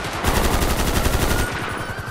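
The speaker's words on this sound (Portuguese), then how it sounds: "Tomando vários tiros nas costas." Video game gunfire: a sustained, dense burst of rapid shots strikes a fleeing player, loud and continuous for about two seconds with no talk.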